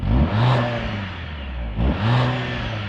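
Mercedes-AMG GLC63s four-cylinder engine from outside the car, two loud rising revs about a second and a half apart, each swelling and settling back to a steady idle.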